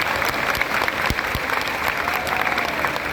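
An audience claps steadily in thanks to the organizers at a live devotional bhajan gathering in Greater Noida, a dense, sustained burst of many hands close by with faint crowd murmur.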